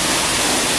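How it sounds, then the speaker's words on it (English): A waterfall on a hike in the South of France roars as a loud, dense, continuous rush of falling water, close and steady, with no voices over it. "This is a waterfall, hence the noise."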